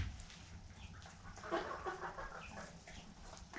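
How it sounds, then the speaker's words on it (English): Chickens on a farm cluck and murmur softly at close to moderate distance, a brief stretch of scattered fowl calls over low background rustle. "we're just going to get in here and check these chickens"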